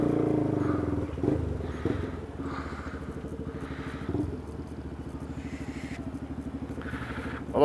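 Motorcycle engines drone and idle nearby in a steady rumble while bikes move past in heavy traffic outside the Serra Azul park, recorded from inside a passing car.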